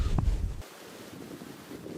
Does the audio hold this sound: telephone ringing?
no